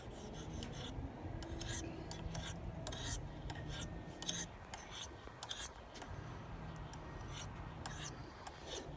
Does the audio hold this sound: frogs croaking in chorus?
no